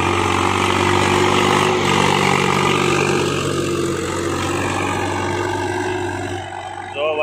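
A Swaraj 744 XT tractor fitted with a harrow runs its engine, a loud, steady, low droning rumble that holds close and then eases slightly in the last seconds.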